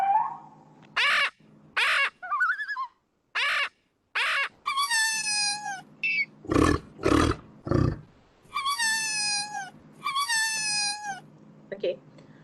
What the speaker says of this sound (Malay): yang dua tu adalah bunyi musang.